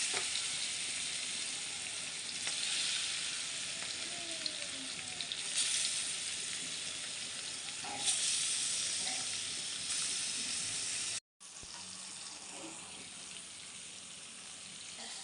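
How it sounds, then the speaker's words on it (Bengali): Rohu fish pieces sizzle steadily in hot oil, a dense continuous frying hiss that stays loud and even throughout, with a few faint clinks and a brief dropout near the end; no one speaks. "মাছ ফিশ তেলে দিয়ে দিয়েছি"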